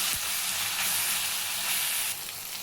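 Ginger-garlic paste, green chilli and curry leaves fry in hot oil, giving a steady, hissing sizzle close by that eases slightly toward the end, with faint stirring underneath.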